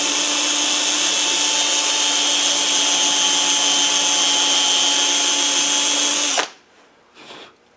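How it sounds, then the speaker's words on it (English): A power drill runs steadily at high speed drilling out the latch pin on a Land Rover door, a loud sustained whine that stops abruptly near the end, followed by faint handling noise. "I'm just going to get the drill"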